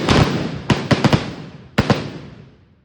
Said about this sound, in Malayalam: പിന്നെ ദേവിയുടെ പ്രധാന വഴിപാടാണ് കേട്ടോ, വെടി വഴിപാട്.